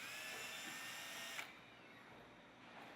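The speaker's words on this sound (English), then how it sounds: "Drill nail holes" A power drill whines steadily while boring nail holes in a vinyl siding corner piece for CertainTeed Cedar Impressions straight edge shingles, a faint high drone that drops in pitch and quietens midway.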